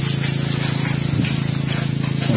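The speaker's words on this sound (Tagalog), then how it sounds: "Nag-i-spray si Manchaga, Skytrops, si Makmak." Steady mechanical drone of a farm sprayer, likely a motorized or power sprayer, running continuously with a low hum and fairly constant level throughout.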